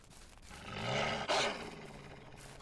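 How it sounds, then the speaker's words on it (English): A wolf in the medieval survival game Crestfallen: Medieval Survival gives a deep, swelling growl that builds to a loud peak and pulses on for a few seconds without talk. "I hear him. I hear the wolf."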